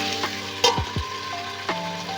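Mutton seasoned with turmeric and salt sizzles in a pan while a spoon stirs it, with a few distinct scrapes and knocks over the steady frying hiss, close and fairly loud.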